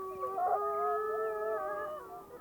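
Several wolves in Yellowstone howl back in answer, their overlapping tones weaving together into a layered chorus at moderate distance with no talking.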